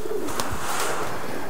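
Racing pigeons from a one-loft race coo softly in a loft, a few low rounded coos over faint background noise, with no talk.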